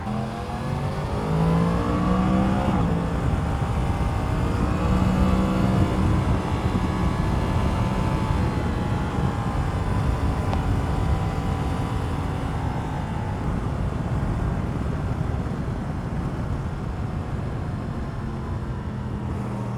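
A Yamaha MT-10 motorcycle rides into town, its engine a steady close drone with rising and falling tones as it changes speed and gears, under constant wind rush, with no talking.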